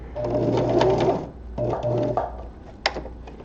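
A sewing machine stitches spandex fabric for gloves in two short, rapid mechanical runs with a pause between, followed by a sharp click, close and loud.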